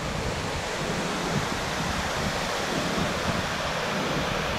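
A river waterfall on a sabaleta fishing spot, rushing water making a steady, loud broadband roar that fills the whole stretch with no pauses and no voices.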